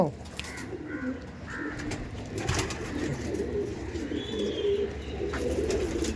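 Tournament-quality Madrasi pigeons coo softly and intermittently with a few chirps over a steady background hiss, fairly faint and close.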